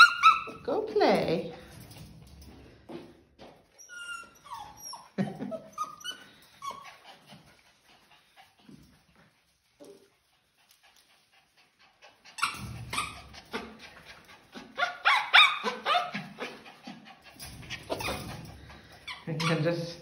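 Eskipoo and poodle puppies bark and whimper in bursts, some close and some a little farther off, with quiet gaps between them, while a person talks over parts of it.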